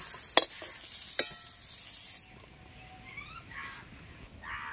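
Brinjal slices fry in oil in a pan in a rural village kitchen. A brief, gentle sizzle carries two sharp utensil clinks, then quiets, and faint birdsong chirps in the background.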